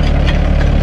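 A loud, steady diesel drone comes from an excavator climbing a slope on its tracks, a close, even rumble with no voices.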